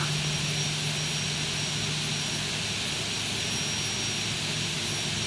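Embraer jet taxiing in X-Plane 12, a steady, loud engine roar and whine that holds level throughout with a constant tonal hum underneath and no talk.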